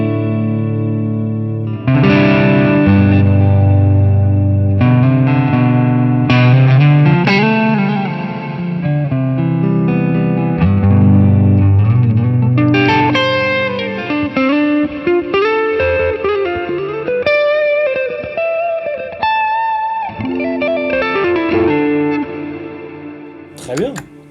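Electric guitar played through a Lightspeed overdrive pedal with reverb, sustained melodic notes and chords with distorted edge and long washy tails, loud and close, a phrase wandering up and down before trailing off near the end.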